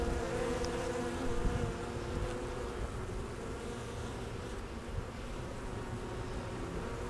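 Yellow jackets swarm around a beehive, a dense steady buzz of many insects filling the air without a break, close and continuous, with no voices.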